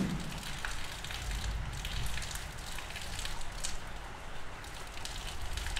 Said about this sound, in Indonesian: di bawah derasnya hujan yang sedang mengguyur